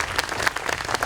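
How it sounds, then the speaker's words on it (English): Crowd at a 2022 commencement ceremony breaks into applause, a brief burst of many hands clapping together, close and fairly loud. "you can clap"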